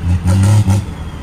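A modified 1100 hp third-generation Cummins diesel pickup revs in a brief, loud, close burst, rising and then dropping off.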